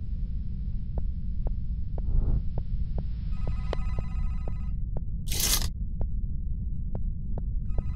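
Telephone ringing in The Vermander Curse horror video game, a repeating electronic ring with faint bell-like tones over a steady low hum and regular throbbing beats, with a brief burst of hiss near the end.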